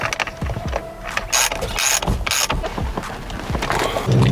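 Ratchet tightening the steering wheel bolt on a Ford Falcon ute, loud close bursts of rapid clicking repeated in quick strokes over a continuous background.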